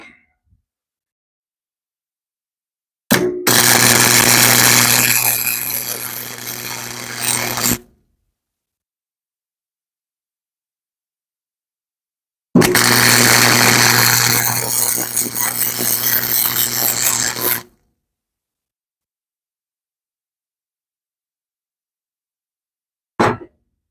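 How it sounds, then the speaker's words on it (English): Harbor Freight MIG 170 welder laying a weld, two steady crackling hissing bursts of about five seconds each separated by silence, close and loud with a steady hum underneath. "Turn on my Harbor Freight MiG 170 here. See how this weld comes out."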